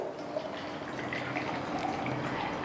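Water poured into a shaker for a DXN Aquazone Energy Water drink: a steady, close liquid stream splashing and trickling continuously without any talking.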